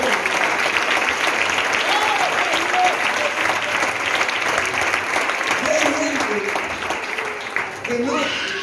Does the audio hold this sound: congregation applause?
yes